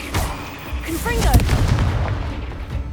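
A Confringo blasting spell bursts in Hogwarts Legacy amid loud game combat, with booming, crackling impacts and whooshing magic effects across the whole stretch and a voice calling out over the action.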